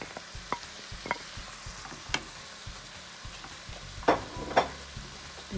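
Green and red peppers frying for meatless Filipino pancit, a steady low sizzle with a utensil scraping and tapping the pan in irregular strokes, close and alone without speech.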